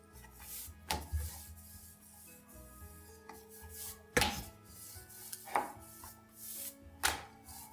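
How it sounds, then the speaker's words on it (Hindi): A rolling pin rolls out balls of maida and sooji dough for namkeen kaju on a board, making soft rubbing passes broken by several sharp knocks and thumps, close and fairly quiet. "अब हम लोई को बेल लेते हैं।"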